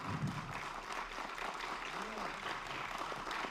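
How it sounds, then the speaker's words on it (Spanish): Steady applause from a crowd at a forum on judicial reform in Mexico fills the whole stretch, a dense, even wash of clapping heard from some distance. "Un aplauso."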